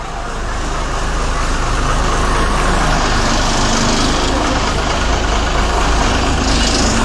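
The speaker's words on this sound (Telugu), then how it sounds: "ప్రస్తుతం మనం తిప్పలకట్ట 4 బస్సులు బయలుదేరుతున్నాయి" Buses depart from a rural stop at Tippalakatta, their diesel engines running loud and close in a steady, unbroken roar that builds slightly at the start.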